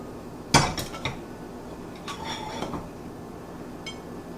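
A pineapple upside-down cake pan is flipped over, giving one sharp metallic clank followed by a few lighter clinks and rattles of cookware, close and alone in a quiet kitchen.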